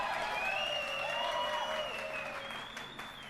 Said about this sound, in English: I must ask all the audience to give a round of applause to our combatini